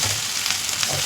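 Onions, okra, garlic and turmeric fry steadily in a pan, giving an unbroken close sizzle with a faint low rumble and no voices.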